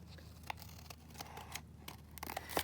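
Scissors snipping around a paper boot cutout, a quiet series of close, irregular crisp cuts with faint paper rustling between them.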